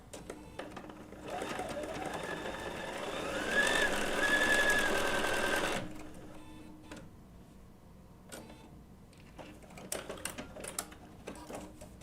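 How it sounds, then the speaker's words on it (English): A Bernina B790 PRO sewing machine runs a short burst of stitching for wool applique, a soft rapid whir of several seconds, then stops, followed by quiet handling clicks. "Do a little sew off here to make sure."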